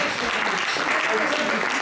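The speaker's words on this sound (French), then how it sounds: "je crois qu'on va s'applaudir" Audience applause at a conference on monetary sovereignty in Africa, a steady dense clatter of many hands clapping throughout, fairly loud, with voices mixed in.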